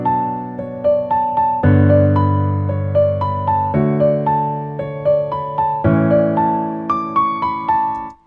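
An emotional electronic-style melody rings out over sustained synth chords that change every couple of seconds, with plucky repeated notes in an even rhythm, loud and clear with no voices.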